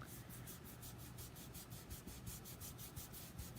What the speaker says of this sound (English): I don't know that I've ever blended a crayon with a blending brush